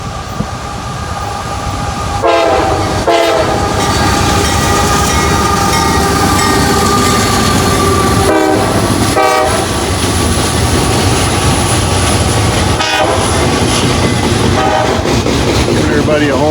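A CSX I-141 southbound intermodal freight train rolls past loud and close, a sustained roar of wheels and rail clatter with several brief horn blasts and rushing wind over the whole stretch.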